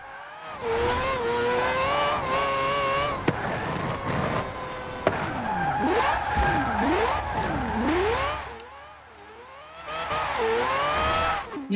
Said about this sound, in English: Still gotta hit the handbrake sometimes, but that's okay. I'm okay with handbrake drifting.